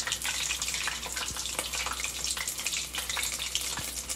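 Food frying in hot oil during a cooking lesson: a dense, continuous crackling sizzle held at a steady level throughout, close by and with no voices.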